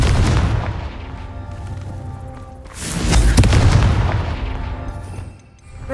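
A Confringo fire spell blasts in Hogwarts Legacy, a deep booming explosion that rolls and fades, then a second heavier blast erupts partway through, loud and close.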